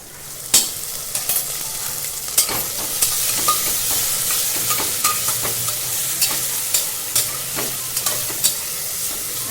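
Ginger garlic paste fries for paneer biryani, a loud continuous sizzle and hiss with regular scraping clicks of a spoon stirring the pan, close and without voices.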